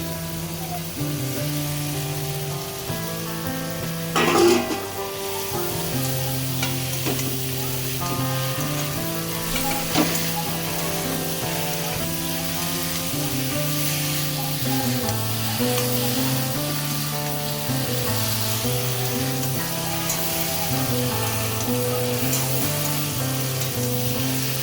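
Pointed gourd and potato pieces fry in spiced oil with a steady, continuous sizzle that runs evenly throughout, joined by a brief stirring clatter near the start, over a constant tonal background.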